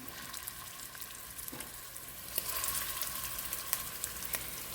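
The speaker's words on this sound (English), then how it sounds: "we've got the oil getting pretty toasty here, and we're just going to drop them in" Meatballs fry in garlic-infused oil with a steady close sizzle and scattered pops, growing a little louder partway through.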